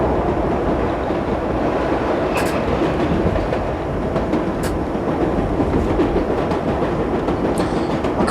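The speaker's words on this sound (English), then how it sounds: "Looks like the train next to me is going." A New York subway train in the World of Subways game departs alongside, a loud, steady rumble of wheels and clickety-clack with a few faint high squeals from the rails.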